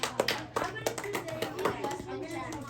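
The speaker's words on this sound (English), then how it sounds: "Let's go to a round of applause." A small group claps briefly during a live demo session, giving a few scattered, uneven claps mixed with children's voices and chatter.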